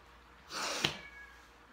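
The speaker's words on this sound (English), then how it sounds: "It's my cat." A house cat lets out a single short, breathy meow or cry at close range, with a brief sharp peak in the middle, then quiet room tone.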